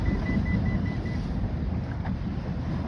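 Strong wind at sea on a fishing boat makes a steady heavy rumble and buffeting across the microphone, with a low engine-like drone underneath. The sound is continuous and close, with no talking.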